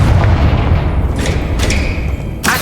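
A Confringo fire spell blasts in Hogwarts Legacy, a heavy booming explosion with a dense low rumble that rolls on throughout, followed by crackling bursts and a fresh blast near the end.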